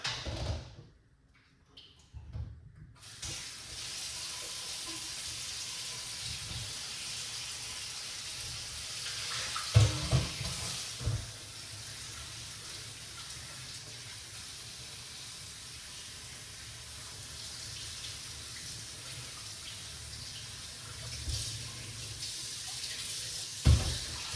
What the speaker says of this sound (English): I'm going to wash off the fruits then now.